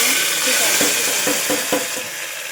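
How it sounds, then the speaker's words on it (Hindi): Cumin seeds sizzle in hot oil with a steady, loud frying hiss, while a few soft stirring scrapes tap through the middle. "अब इसमें हम डालेंगे जीरा।"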